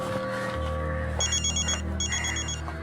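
A telephone rings in a dramatized crime-show scene, two short electronic trilling bursts over a steady musical drone.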